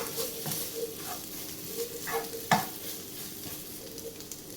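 Boiled eggs are stirred into a sizzling egg masala in a pan, with a soft continuous frying hiss and repeated scraping and stirring strokes, one sharper clink near the middle, and no one talking.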